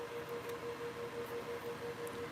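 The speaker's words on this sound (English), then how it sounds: "What you're hearing is just the air filter that's running the background." A steady, quiet whoosh of a fan-driven air filter with a faint constant hum, running evenly and alone.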